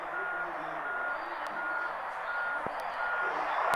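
Truck reversing beeps in the mobile driving game Truckers of Europe 3, a steady evenly spaced series of tones over a constant engine drone, with a couple of faint clicks.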